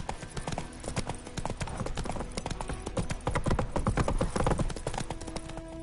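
Roach the horse gallops in The Witcher 3, its hooves beating a fast, dense clip-clop that stays loud and close throughout.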